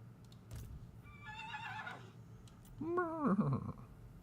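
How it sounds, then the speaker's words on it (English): A Pegasus mount in Total War: Warhammer 3 neighs loudly in a quavering whinny, followed by a deeper, rougher second neigh over faint battle ambience. "Just gonna neigh at me."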